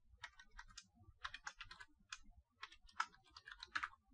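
Typing on a computer keyboard, a quiet, close series of quick key clicks in uneven bursts with short pauses between them, no voices.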